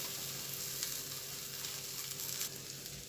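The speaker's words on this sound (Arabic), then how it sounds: "هشوحه مع البهارات والبصل كده تشويحه خفيفه" Onions and spices sauté in a pan for spiced rice with liver, giving a steady, close sizzle with no talk.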